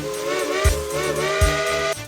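Steam locomotive whistle sounding loud and close in a long continuous shrill tone, with two brief low bursts under it as it blows twice.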